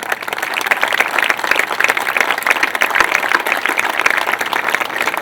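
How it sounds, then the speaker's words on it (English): Sustained applause from a seated crowd honoring former tennis coaches at the grand opening of a tennis complex, dense steady clapping throughout with no pause and no voices on top. "would you all stand and be applauded"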